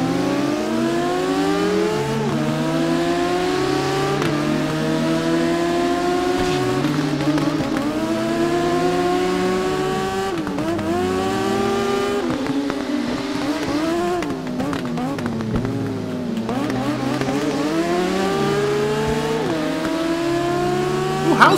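A high-revving motorcycle engine racing in the TT Isle of Man video game, loud and continuous, with pitch climbing through gears and dropping at shifts, and no talking.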